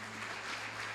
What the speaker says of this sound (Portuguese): vamos dar um aplauso pela vida deles